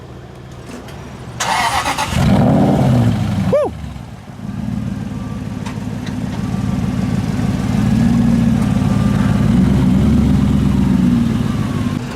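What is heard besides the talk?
Mercedes-AMG C63 engine starting up and idling, heard from outside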